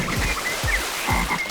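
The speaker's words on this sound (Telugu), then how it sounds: "బావిలో కప్పలు." Frogs croaking in an old, disused well, three deep, resonant croaks spaced about half a second apart, fairly loud and close, with no talking.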